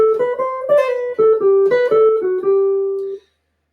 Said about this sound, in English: the minor 2-5-1 lick sounds like this